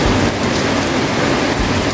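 Heavy rain pours steadily and loudly without a break, a dense, close hiss of drops drumming on surfaces around an old house in the mountains.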